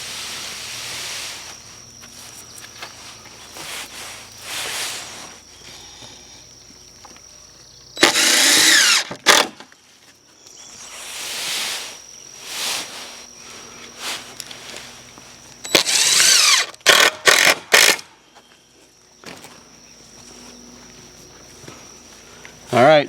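Power drill driving deck screws fitted with fender washers, heard as several loud, short whirring bursts in two clusters, separated by quieter stretches of hiss and muffled talk.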